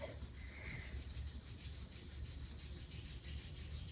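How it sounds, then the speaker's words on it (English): Palms of the hands rubbed briskly together during a chair yoga session, a close, steady, swishing friction that keeps a quick even rhythm without pauses, with no talking. "Bring our hands together, start rubbing the palms"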